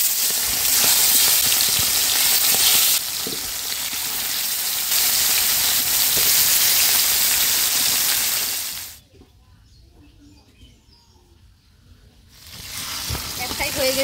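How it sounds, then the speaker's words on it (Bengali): Tilapia fish fries in oil in a karahi, a loud, dense crackling sizzle that drops away to near quiet for a few seconds before swelling back up. "এখন মাছটা ভেজে নিব"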